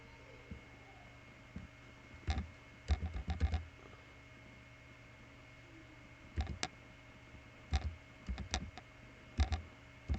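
Bursts of typing on a computer keyboard, with clustered key clicks in several short runs separated by pauses, fairly close and moderately quiet over a low steady background hum.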